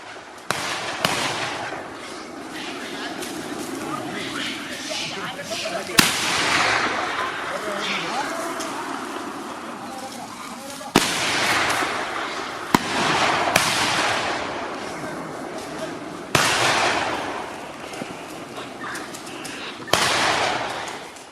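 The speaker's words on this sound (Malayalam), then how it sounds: "വെടിയൊച്ചയും വലിയ ശബ്ദവും ഉണ്ടാക്കി കാട്ടിലേക്ക് തിരികെ ഓടിക്കുന്നതുവരെ കൂട്ടുകാരന് കാവൽ നിന്നു ഗണപതി." Firecrackers burst in a forest area to drive wild elephants back into the woods, sharp loud bangs recurring every few seconds over a rumbling, noisy background with some voices.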